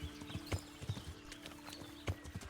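Horse hooves clip-clopping in a video game, a quiet, uneven run of hollow knocks with a faint steady hum behind them and no talk.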